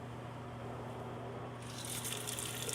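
Water gushing through a makeshift siphon made from a Gatorade bottle, a steady close rush that swells louder and brighter partway through, with no talk.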